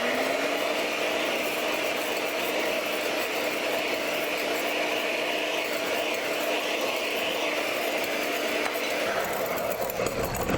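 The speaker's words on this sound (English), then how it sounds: "I'm going to start adding in the sugar a little bit at a time with the mixer on." An electric mixer beats egg whites while sugar is added a little at a time, a steady close motor whine with a constant pitch that runs on evenly and barely changes, with no talk.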